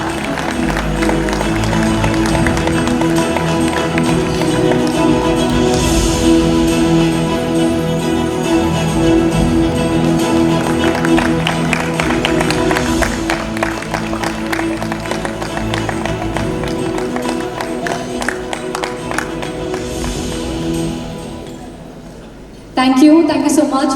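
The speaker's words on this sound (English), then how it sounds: "a huge round of applause for Sunil sir" A stage audience gives a long, steady round of applause and cheering for Sunil at an awards event, loud and continuous before fading near the end, with talk over it.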